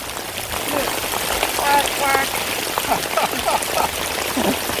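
Steady rain falls outdoors during a fishing outing, a continuous broad hiss with patters and trickles. A voice is faintly mixed in underneath.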